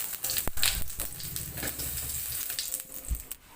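Tofu and tempeh frying in hot oil, crackling and spattering in close, uneven pops with a few sharper bursts, no talking.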